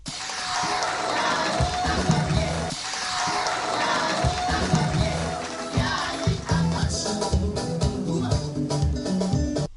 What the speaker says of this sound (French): Au passage, les marcheurs sont applaudis et encouragés.